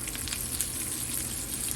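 A pork chop frying in a pan, a steady close sizzle with crackling hiss running unbroken and fairly quiet throughout.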